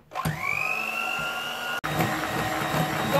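Electric mixer beating eggs and sugar in a bowl for an apple cake batter: a steady high motor whine that starts abruptly, runs evenly, cuts out for an instant and resumes, close and loud with no talking.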